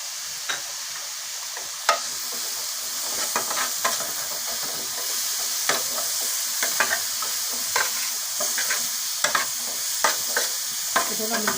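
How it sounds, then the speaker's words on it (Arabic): Chicken with black pepper, paprika, cumin, cinnamon and salt sautéing in a pan, a steady close hiss of frying with frequent sharp scraping clicks as it is stirred, no voices. "طول ما بيتشوح كده"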